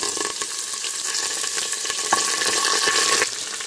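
Chopped onions spit and splatter as they fry in hot oil for a Karnataka-style donne biryani, a loud, close, continuous sizzle with crackling bursts that holds steady for the whole stretch.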